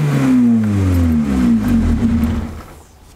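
A Honda Integra engine with a newly fitted larger throttle body revs up once, then the tone falls steadily as it winds down and cuts off, loud and close.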